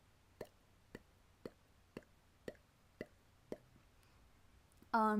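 A series of seven sharp mouth clicks made with the tongue against the palate, evenly spaced about half a second apart, close and isolated, followed by a brief burst of sound.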